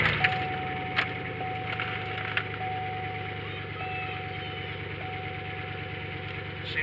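Pontiac GXP engine idling just after a tuner install, a low steady hum heard close with faint clicks and a thin steady tone over it, no talk.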